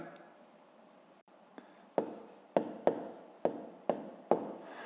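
A pen taps and scratches on paper in a series of sharp, regular strokes while numbers are written out for a fifth-grade division exercise, close and fairly quiet.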